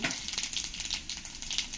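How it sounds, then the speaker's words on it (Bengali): Cumin seeds sizzle and crackle in hot oil in a heated wok, a quiet, close, busy spitting with rapid irregular pops throughout and no talking. "তেলের মধ্যে হাফ চামচ জিরে দিয়ে দেবো"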